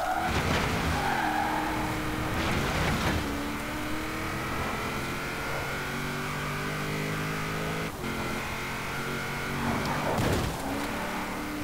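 Car driving flat out at top speed on a motorway, a constant loud engine and wind roar with tyre noise that holds steady throughout, broken by a few brief swooshing bursts, with no talking.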